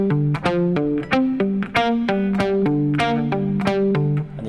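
An electric guitar lick built on open-string pull-offs, picked with all downstrokes: a steady run of quick, clear notes repeating the pattern, played alone and fairly loud.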